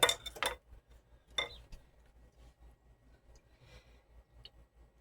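A serrated knife cuts through food in a small home kitchen: a few short rasping sawing strokes near the start, then quiet light clicks and taps against a cutting surface.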